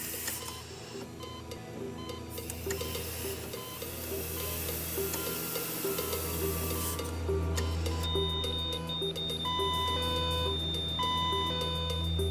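Steady electronic beeping from a medical alarm, repeating high tones over a dense bed of hum and background noise, growing more insistent with a sustained high tone in the later seconds.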